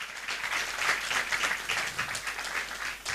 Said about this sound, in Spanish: Vamos a aplaudir una vez más al coro Nueva Alegría